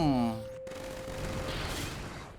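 Gunfire and a blast in the Roblox game Blox Fruits, a loud burst at the start with a sustained tone, then a steady noisy rumble that carries on to the end.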